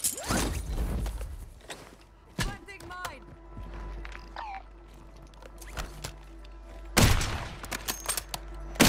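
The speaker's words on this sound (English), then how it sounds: "somebody just sniped me from where y'all at" Sharp gunshots in a multiplayer video game crack out near the start, around two and a half seconds, and again near seven seconds, loud against quieter game noise, with players talking between shots.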